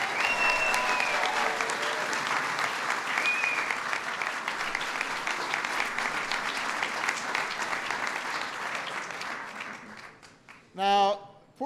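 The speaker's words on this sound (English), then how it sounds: "Please give them a big round of applause." Sustained audience applause at a White House St. Patrick's Day event, a dense wash of many hands clapping that fades gradually before a brief burst of voices near the end.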